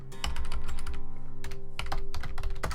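Rapid typing on a computer keyboard, with soft clustered keystrokes in quick bursts, a short pause, then more keys under a faint background hum.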